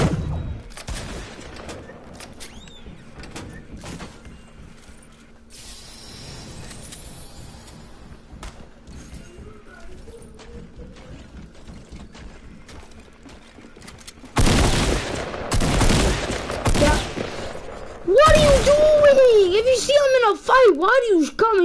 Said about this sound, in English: Why do you come and shoot me?